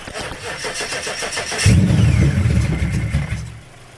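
A supercharged Ford Mustang fitted with an ESS G3x kit cranks with rapid rhythmic starter pulses, then fires into a loud, deep idle that holds steady before dropping away, heard close up.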